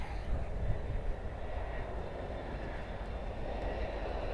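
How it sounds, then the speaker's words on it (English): An American Eagle Embraer 175 regional jet arriving at Miami Airport, heard as a steady, broad roar of jet engines that holds at an even, moderate level throughout, with no voices. "Next arrival, another American Eagle from Rochester with an Embraer 175."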